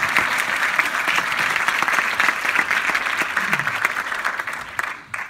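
An audience applauds to welcome the speaker José Picó at an InnoBi19 conference, a dense, steady round of clapping that fades out near the end.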